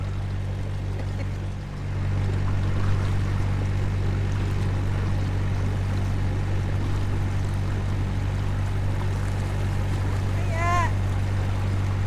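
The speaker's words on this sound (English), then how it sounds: "And we've got one boat coming towards us." A narrowboat engine drones steadily on the River Great Ouse with a low constant hum, accompanied by wind and water noise and a brief chirp near the end.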